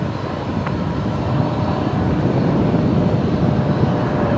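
A Fokker 70 jet at Brisbane Airport gives a loud, steady engine roar that swells slightly and holds, broadband and close, with no voices.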